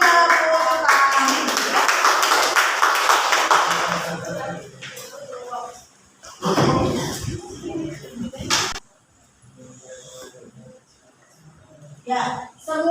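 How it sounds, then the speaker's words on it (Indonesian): A classroom of students claps together after group presentations in a school lesson, a dense burst of applause lasting several seconds before fading into talking voices and scattered quieter sounds. "Kasih tepuk tangan."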